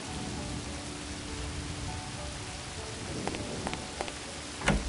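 Steady rain falling outdoors on a stormy night at an isolated house, a constant broadband hiss with a few sharper knocks and drips toward the end, no voices.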